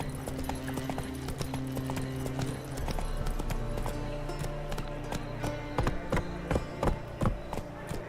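Roach the horse gallops in The Witcher 3, hooves clip-clopping in a quick, steady rhythm, close and clear over a low ambient game soundtrack with a soft whinny-like tone early on.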